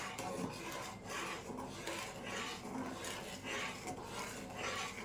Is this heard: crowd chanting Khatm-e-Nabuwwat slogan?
no